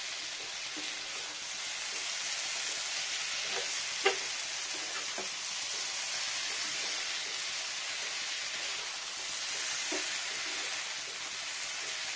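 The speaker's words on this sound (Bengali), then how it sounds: "এটা আমি ড্রাই রোস্ট করে নিই, পিষে নিয়ে মশলা।" Coriander, cumin and dried chillies dry roasting in a pan, giving a soft, steady sizzling hiss with a few faint clicks and stirring taps throughout, quiet and close.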